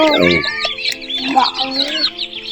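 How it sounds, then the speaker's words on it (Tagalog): One-week-old chicks and chickens cluck and peep close by in short, busy bursts of high chirps over a few seconds, with no talk. "update ko po kayo sa aking mga alaga. Ito pong akin pong sisiw na itaw."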